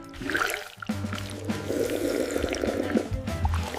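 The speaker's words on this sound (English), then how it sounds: "I am drinking water." Water being poured into a container, a steady close trickle and fill sound lasting a few seconds.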